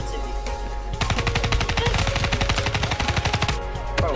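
Rapid automatic gunfire from a weapon in a Call of Duty: Black Ops 3 multiplayer bot match, a steady burst of close, loud shots lasting a few seconds after a brief quieter lead-in.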